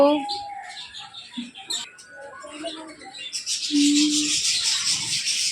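A lone macaw on a farm in Bahrain lets out a string of short chirps, whistles and squawks with pauses between, ending in a harsher, noisier screech.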